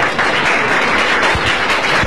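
A crowd applauding Pope John Paul II inside the Palacio de López in Paraguay, dense loud clapping from many hands, sustained and close throughout.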